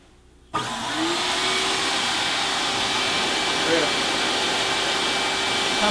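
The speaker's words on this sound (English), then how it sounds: "Come in and blow these down feathers out." A blower starts up abruptly after a short quiet moment and then runs as a steady, loud rushing whoosh with a faint whine, blowing down feathers out of a bird.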